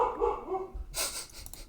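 A dog barks a few times nearby while a game is played indoors, sharp bursts over a low room background with no talking.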